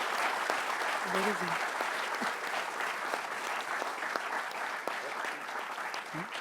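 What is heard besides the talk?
audience applause at an anniversary celebration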